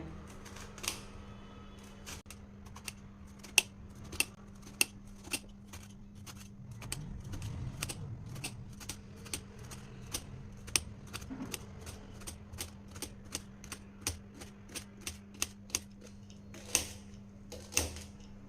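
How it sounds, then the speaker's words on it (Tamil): A knife chops bitter gourd into round slices on a board, making crisp, evenly spaced taps close up that speed into a steady rhythm with brief pauses. "இப்போ கட் பண்ணிக்கலாம் பாவக்காய் வந்து இன்னைக்கு ரவுண்ட் ரவுண்டாக கட் பண்ணிக்கலாங்க"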